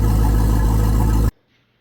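Wakeboat engine idling steadily with a low, even rumble while being winterized, loud and close, cutting off abruptly to near silence after a second and a bit as it is shut down.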